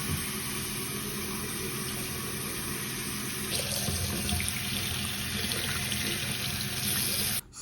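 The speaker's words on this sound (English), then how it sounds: "if you run this under cold water" Cold tap water runs continuously over a drink can held beneath it, a steady close splashing hiss with a brief break near the end.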